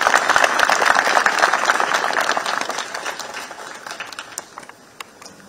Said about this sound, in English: let's once again give a round of applause to the outgoing commander.